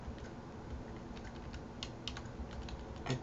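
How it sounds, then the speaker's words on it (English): Typing on a computer keyboard during a Pokémon FireRed playthrough: a steady run of soft key clicks over a constant background hiss, with a few sharper taps near the end and no voices. "as I'm typing this"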